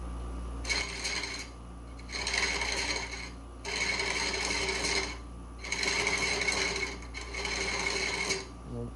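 A Carter and Sons thread chaser cuts threads into a turned wooden round box on a lathe, making five bursts of gritty, raspy chattering over a steady low motor hum, each about a second long with short pauses between.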